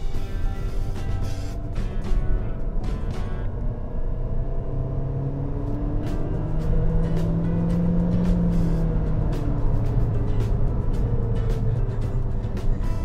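A Chery Tiggo 4 car shifted down through third into second at about 40 km/h and accelerated, its engine rumbling steadily and droning loudly with rising tone throughout, with no talk.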